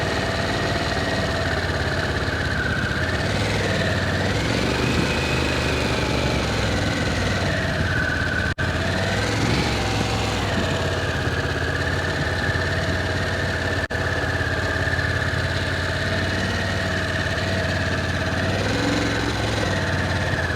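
A 2021 Harley-Davidson Road Glide Limited or Pan America motorcycle engine runs steadily throughout, a loud, continuous throb with faint shifts in pitch as the clutch is let out into the friction zone.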